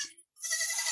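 A goat bleats close by in a short, sharp, nasal burst, with a brief faint sound before it.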